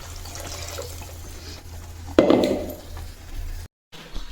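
Water pours into a pot of fish curry in one short splashy burst, with a low background hum before and after.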